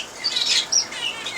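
Small pet birds in an indoor aviary give bright, high chirps and tweets in quick overlapping bursts. The sound is moderately close and continues throughout, with no talking.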